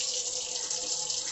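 A kitchen faucet runs steadily into a sink while food is being washed, a close, even hiss of flowing water with no talk.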